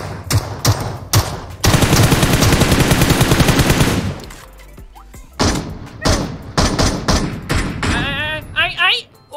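M416 assault rifle firing in PUBG Mobile: several bursts of rapid automatic fire, one long sustained burst, then shorter bursts among game sounds, loud and close, with someone talking over parts.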